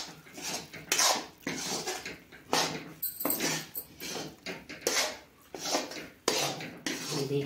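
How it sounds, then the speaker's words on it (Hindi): Ground makhana (fox nuts) being stirred and roasted in a pan, heard as a run of rhythmic scraping and clinking strokes of a spoon against metal, close and fairly steady. "मखाने को भी इसी में मिक्स करूंगी और चलाते हुए इसी तरह भूनूंगी।"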